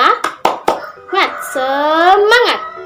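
Children's voices chant in a quick call-and-response with sharp hand claps at the start, a few rhythmic claps followed by a drawn-out sung phrase, close and fairly loud.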